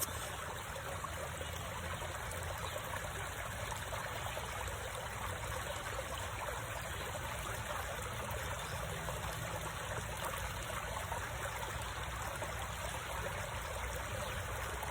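A river flowing, a steady broadband rushing and trickling of water that holds constant and unbroken throughout, with no voices.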